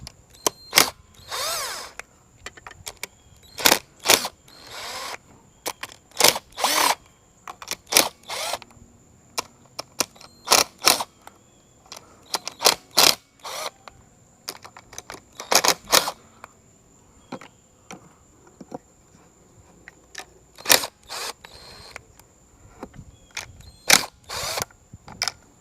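Power tool zipping off a series of 3/8 bolts on a 2000 Johnson 115hp outboard during a stator replacement, in repeated short bursts spaced a second or two apart, close and fairly loud with quiet gaps between.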